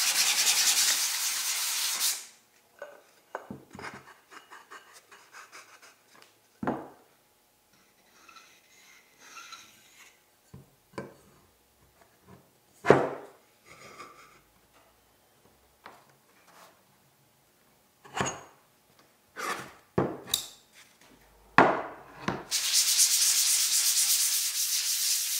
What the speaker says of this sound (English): it does require a light sanding with some 320 grit